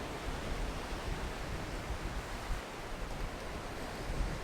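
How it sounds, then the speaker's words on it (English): Ocean waves breaking on a beach at a landscape photography location, heard as a steady, dense wash of surf with no distinct individual breaks, moderately loud and continuous throughout. "it's very hard to time the waves just right"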